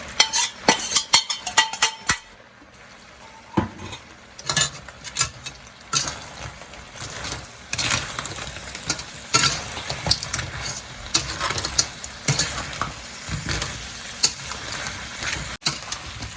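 Malaysian black pepper crab being stirred and fried in a pan with roasted pepper, with irregular metallic clanks of a utensil against the pan over a steady sizzle, no talking.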